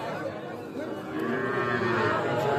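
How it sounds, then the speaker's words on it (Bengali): A two-month-old Sahiwal bull calf moos at a busy cattle market, its drawn-out low call rising over steady crowd chatter and other livestock nearby. "শাহিওয়াল ষাঁড় বাছুর।"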